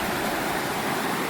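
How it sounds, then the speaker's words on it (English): A river rushes past at a trail crossing near a campground, where a bridge spans the water. Steady, loud broadband flow roars without pause throughout, close by and with no voices over it. "I hope it's not too loud, but this is my first river crossing"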